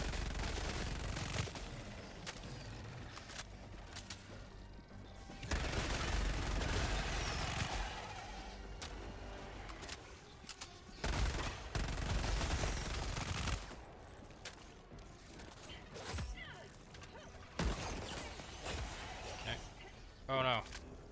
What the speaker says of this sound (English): This thing shits at ammo, dude. Like 50 rounds. Watch how fast 50 rounds go.